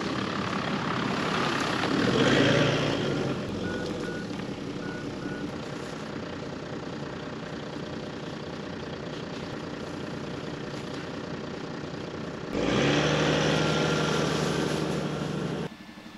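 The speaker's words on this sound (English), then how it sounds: "So this truck comes and collects dead animals." A knackery lorry collecting dead animals on a sheep farm, its engine idling steadily at moderate distance with louder revving bursts at the start and near the end, and a few faint reversing beeps early on.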